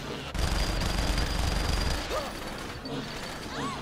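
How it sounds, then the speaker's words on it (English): Sniper fire in Saints Row The Third, a burst of rapid, rumbling gunshots followed by scattered weaker reports and whizzing sounds, fairly loud amid game noise and faint voices. "That's a sniper."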